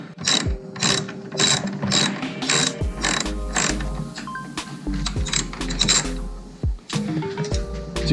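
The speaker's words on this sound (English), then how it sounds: "You use the wrench for this bottom one here" A ratchet wrench loosens a mirror bolt on a 2014 Ford Explorer, giving repeated bursts of close, crisp ratcheting clicks with short pauses between strokes and no talk.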